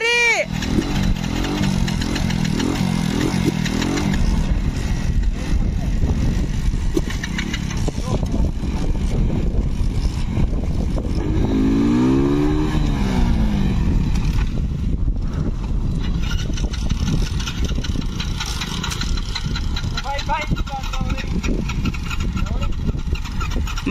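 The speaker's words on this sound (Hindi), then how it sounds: "भाई नई वाली बाइक स्टार्ट नहीं हो रही" A new Hero Splendor Plus motorcycle that will not start and gives off smoke sputters and churns with repeated attempts, loud and close, under near-constant talking voices.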